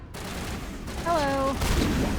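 Gunfire in the Mass Effect game rattles in the background of a Peak 15 battle, a steady noisy stream of shots, with a brief voice-like tone over it.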